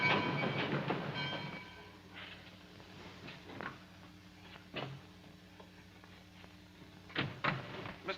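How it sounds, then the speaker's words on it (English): A train pulls out of a station, with heavy rumble and clatter up front easing into intermittent clanks and squeals as it rolls away, fairly close, with no talk. "But the train's leaving."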